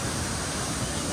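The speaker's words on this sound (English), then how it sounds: "A small, stubby, yet thick and powerful waterfall." Taytay Falls in the Philippines, a small, thick and powerful waterfall, gives a dense continuous roar of falling water heard close up, steady throughout the short moment.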